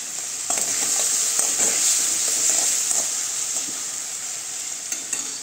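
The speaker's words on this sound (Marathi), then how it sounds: "लसूण, मिरची, कोथिंबीर आणि आल्याचं वाटण घालूया। त्यानंतर आपण टोमॅटो घालूया।" Garlic, chili, coriander and ginger paste with tomato fry loudly in hot oil for an Aagri-style Bombay duck curry, a dense, continuous sizzle broken by scraping stirs.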